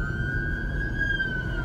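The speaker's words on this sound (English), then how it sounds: "Ambulance. Ambulance this time." An ambulance siren sounds outside, a steady high wailing tone gliding slowly in pitch, moderately loud and distant over a low rumbling background.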